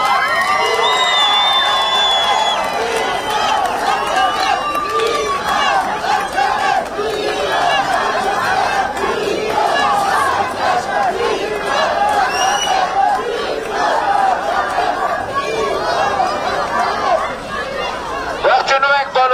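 Large outdoor crowd at a rally in Gavar cheering and shouting continuously, dense and loud throughout, with voices rising over a steady roar of noise.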